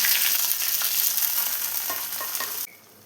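A hot tempering of shallots and curry leaves fried in oil crackles and hisses as it goes into a Kerala prawn and green mango curry, loud and close, then cuts off abruptly near the end, with no talking.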